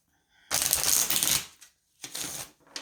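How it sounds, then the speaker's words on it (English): Close, crisp shuffling of tarot cards: a long riffle, a brief pause, then a second shorter burst and a faint third. "Okay, I gotta shuffle."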